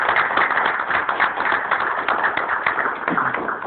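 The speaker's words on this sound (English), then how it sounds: "So we're going to give her a hand of applause" A crowd gives a steady round of applause for Imani at a 100 Men Reading Day event, dense overlapping claps running loud and unbroken throughout.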